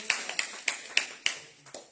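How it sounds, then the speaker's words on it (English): Hands clap in a steady rhythm at a church service, about six sharp, close claps spaced roughly a third of a second apart, with no talk over them. "Clap your hands and celebrate Jesus."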